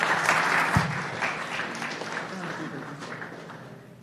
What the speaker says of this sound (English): Can we have another round of applause for Nick, please?